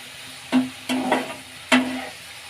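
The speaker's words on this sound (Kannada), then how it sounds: "ನೋಡಿ ಎಷ್ಟು ಬೇಗ ಫ್ರೈ ಮಾಡೋದಕ್ಕೆ ಕಮ್ಮಿ ಆಗೋಯ್ತು ಅದ್ರ ನೀರೆಲ್ಲ ಬಿಟ್ಕೋತಾ ಇದೆ" Oyster mushrooms fry in a pan, a low sizzle beneath three sharp scrapes of stirring spaced about half a second to a second apart, close by, with no speech.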